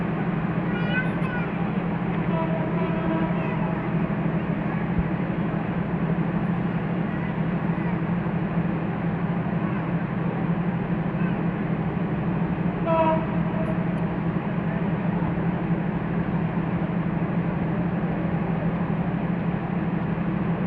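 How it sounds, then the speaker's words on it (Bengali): Benapole Express train entering Dhaka near Gandaria railway station, a steady loud rumble of wheels and carriages throughout, with a couple of brief horn-like tones near the start and around the middle. "বেনাপোল এক্সপ্রেস ট্রেন ঢাকায় ঢুকতেছে রাত সাড়ে আটটায় আবার বের হয়ে যাবে রাত বারোটায়"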